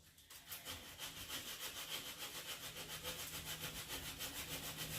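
Steady back-and-forth sawing through wood in a basement workshop, a continuous rhythmic rasp of regular strokes that stays fairly loud and close throughout, with no talking.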